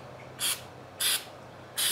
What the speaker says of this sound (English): I'm gonna spray down the case.